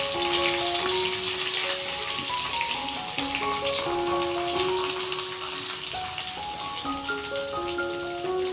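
Chopped ginger and curry leaves frying in hot oil in a pan, giving a steady, dense sizzle and crackle that runs the whole time, close up and with no talk.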